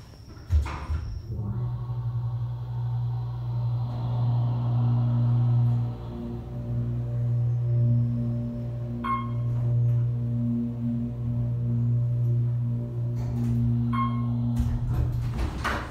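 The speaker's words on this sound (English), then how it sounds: "Listen to the motor." Otis hydraulic elevator with a slanted-panel stainless steel cab at a community college, its motor droning steadily with a low hum throughout, with brief door and mechanical clunks in the middle and near the end.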